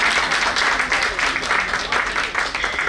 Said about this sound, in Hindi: एक बार जोरदार तालियां अपने लिए बजा दीजिए।